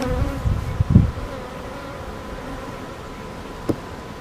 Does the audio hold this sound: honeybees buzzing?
yes